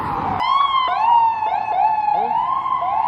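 A New York fire department siren wailing loudly nearby, a rising and falling electronic tone with repeated yelp sweeps, heard alone without talk.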